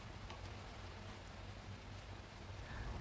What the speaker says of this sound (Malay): Semasa saya memasak ni hujan, jadi agak bising sedikit.